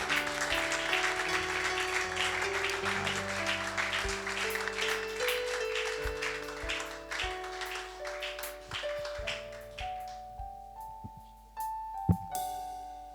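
A church congregation applauding at a Sunday service, dense clapping that thins out and fades, over sustained organ or keyboard chords, ending with a few scattered claps.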